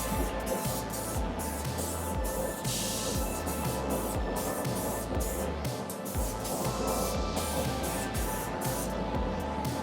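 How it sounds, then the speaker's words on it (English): Spray paint misted in thin coats onto an ARRMA Mojave Grom RC car body, a steady, dense hiss that runs without break from start to finish. "You just spray it super thin."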